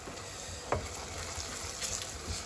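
Jollof rice ingredients are stirred in a pot over heat, a faint steady sizzle with a few soft scraping and knocking strokes of the spoon, close and quiet, with no speech.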